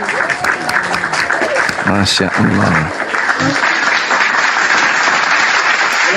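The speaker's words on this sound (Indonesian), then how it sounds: "Tepuk tangan dulu dong." Audience applause at an RRI Sultra studio event fills the clip, steady clapping from a crowd that continues throughout, with a brief spoken exclamation near the start over the clapping.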